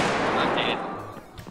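Single-fire gunshots in Escape from Tarkov crack out in a loud, dense burst at the start, then tail off into quieter echoes with a brief voice near the end.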